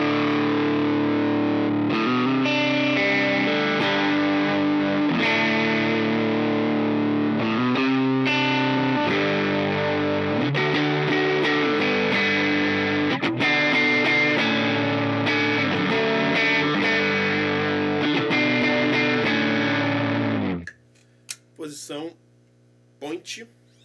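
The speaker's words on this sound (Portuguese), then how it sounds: "Esse é o som do Saturn 9." An electric guitar runs through a Saturn 9 pedal as the third stage of a pedalboard. Distorted, sustained chords and riffs play for about twenty seconds before stopping, followed by a few sparse, isolated notes.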